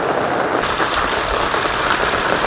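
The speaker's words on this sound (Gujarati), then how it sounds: "કેટલો વરસાદ છે અત્યારે" Heavy monsoon rain in Gujarat pours down in a dense, steady hiss, loud and close, with no voices over it.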